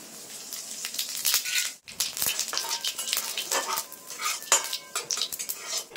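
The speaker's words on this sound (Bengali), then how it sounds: "ফোড়নে দিয়ে দেবো গোটা জিরা আর একটা শুকনো লঙ্কা" Whole cumin seeds and a dried red chilli hit hot mustard oil in a pan, giving steady close crackle and sizzle with metal clinks of a spoon stirring, a brief gap near two seconds, then continuing frying.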